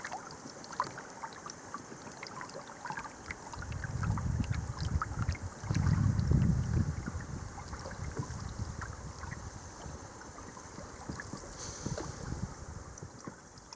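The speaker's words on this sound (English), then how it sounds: "we went for a short canoe trip to see the thick fog" Canoe gliding on water in thick fog, with soft paddle swishes and water movement rising in the middle, under steady wind noise on the microphone.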